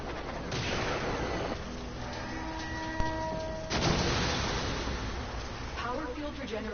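Warframe weapons fire in sharp bursts over a dense, steady game soundscape, with loud cracks standing out amid continuous combat noise and a voice speaking.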